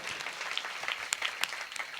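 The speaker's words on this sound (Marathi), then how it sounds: "सर्वांनी प्रेमाने एकदा टाळी वाजवा या लेकरा करता" A brief burst of audience applause at a Marathi kirtan gathering, many hands clapping in a dense, steady patter with a few sharper claps standing out, no voices over it.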